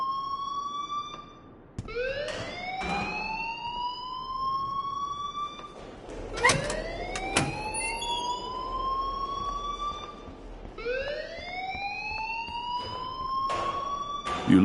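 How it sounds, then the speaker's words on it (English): An alarm in a video game wails in repeated rising siren sweeps, each tone climbing and holding before restarting, loud and piercing with sharp clicks and thumps in between. "please turn off that alarm since that's your job"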